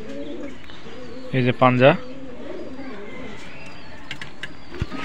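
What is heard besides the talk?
Benaras Azan breed and Pakistani high-flying pigeons cooing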